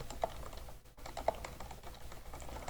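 Rapid, close keystrokes on a computer keyboard while entering text into a word processor, a steady patter of light clicks with a brief pause partway through.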